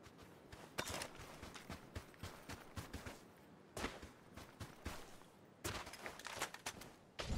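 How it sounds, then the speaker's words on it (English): Gunfire in the battle royale game PUBG, repeated bursts of rapid, crackling shots in clusters separated by short pauses, fairly faint and somewhat distant. "Shooting at me."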